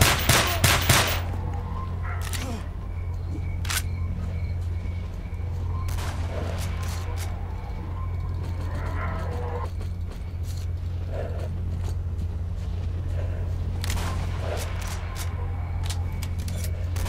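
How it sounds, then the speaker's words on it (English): Sniper rifle shots from an SV-98 in S.T.A.L.K.E.R. Call of Chernobyl, a few sharp cracks spaced several seconds apart that ring out over a constant low rumble of background ambience. "That sounds like it's probably an SV-98."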